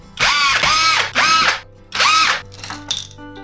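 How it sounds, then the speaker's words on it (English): A power tool drives screws out of a device, its motor whining up and down in four close bursts, followed by a couple of shorter, softer spins. "Now I'm just going to remove these screws."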